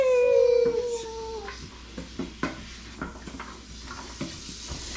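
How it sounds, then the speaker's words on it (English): Vegetables sauté in a pot for potato soup. A high, wavering whine fades out in the first second and a half, then a quiet sizzle runs under scattered light clicks of a stirring utensil. "we're going to saute these for probably about 4 minutes"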